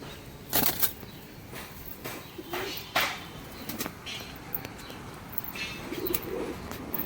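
Madras pigeons give faint coos amid wing flaps and rustling against steady background noise, with a few sharp bursts of movement close by.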